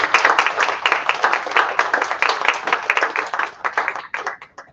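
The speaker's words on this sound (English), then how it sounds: "All right, once again, please, round of applause." An audience applauds after a talk on natural language processing, with dense, steady clapping that thins out toward the end. Close and fairly loud, with no talking over it.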